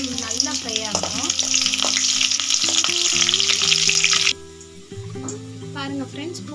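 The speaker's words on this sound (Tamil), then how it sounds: "பூண்டு நல்லா ஃப்ரை ஆகணும்" Loud sizzling of garlic frying in hot oil crackles close up with stirring, then cuts off abruptly, leaving a sustained tonal hum and quieter background.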